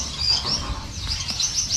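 A Gouldian finch being held and fitted with a leg ring gives a run of quick, high chirps and tweets, close and fairly clear over light background noise.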